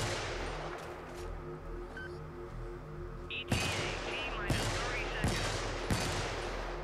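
Heavy, big-caliber gunfire in the Helldivers video game, first a low rumbling hum, then four loud, sharp booming shots spaced roughly a second apart, each ringing out over the din.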